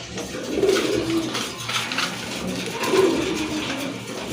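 Pigeons coo nearby in two soft bursts of throaty, rolling calls, separated by a quieter stretch with faint room noise.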